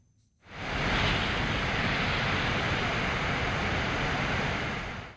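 Water pouring out of Kerala dams after days of heavy rain: a loud, steady, broadband rushing roar that starts abruptly after a brief quiet moment and holds constant throughout.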